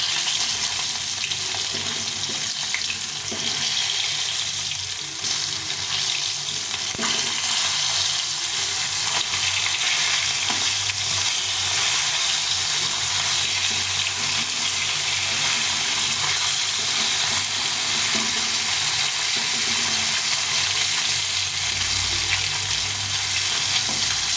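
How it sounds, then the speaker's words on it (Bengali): Rohu fish pieces frying and being turned in hot oil in a pan, a continuous loud sizzle with occasional scraping and stirring sounds, no talking. "মাছগুলো এক পাশে নিয়ে গেছে এখন উল্টে পাল্টে ভেজে নিচ্ছি"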